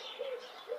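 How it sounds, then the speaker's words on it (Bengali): Two soft coos from a dove or pigeon in the morning, each a short rising-falling note, heard close and alone over quiet background. "পাখির ডাক, ছাত্রদের কোলাহল"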